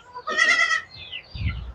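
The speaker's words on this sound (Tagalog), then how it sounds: "marami pong kambing na kinakastahan niya" Goats on a farm bleat, with one loud, close, wavering bleat followed by fainter cries and a low rumbling noise.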